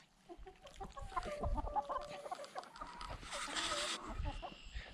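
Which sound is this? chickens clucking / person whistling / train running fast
chickens clucking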